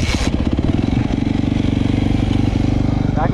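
A Yamaha YZF250 engine, warmed up after a head repair for seizure damage, runs steadily with a fast, even pulsing throb throughout, loud and close, and a brief higher rattle near the end.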